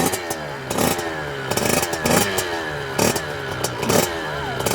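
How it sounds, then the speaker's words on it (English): A brand new motorbike burning oil-mixed fuel is given short repeated revs, its close, loud engine rising and falling in about five quick bursts over a rough idle. "just keep giving it little revs. That's a beauty of a brand new bike"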